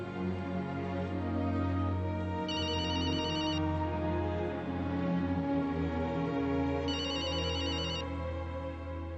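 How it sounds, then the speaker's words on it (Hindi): A mobile phone rings on and on indoors, a steady repeating electronic ringtone with brighter trill bursts, running alone over low background hum and with no one talking. "इतनी देर से मोबाइल बज रहा है, कम से कम मोबाइल तो उठा ले।"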